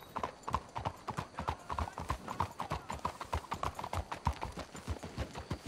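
Horses' hooves clip-clopping at a steady walking rhythm in Red Dead Redemption 2, many close, moderately loud hoofbeats overlapping continuously.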